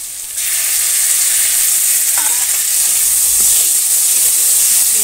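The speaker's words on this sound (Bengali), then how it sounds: "মশলাটা কষিয়ে নেবো" Ground spice paste fries in a pan for a pointed gourd and fried potato curry, a strong, steady sizzle that swells after a quieter first moment and keeps going with no talk.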